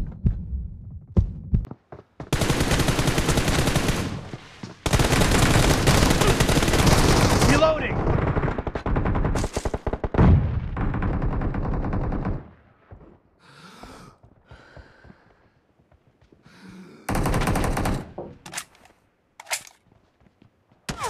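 Rapid automatic gunfire in PUBG Mobile team deathmatch, long loud bursts of fire broken by short pauses, with quieter game effects between volleys.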